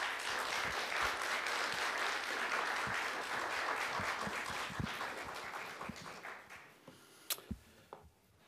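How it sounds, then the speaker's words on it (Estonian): Dense, sustained applause from a conference audience at an Estonian literature festival week, steady and full for several seconds before thinning out, ending in a few scattered claps and taps. "tehke suur aplaus"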